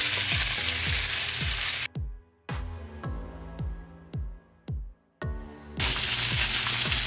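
Salmon cakes fry in a pan with a dense, bright sizzle that drops away in a few abrupt gaps, where a rhythmic series of low thumping pulses comes through before the sizzle returns.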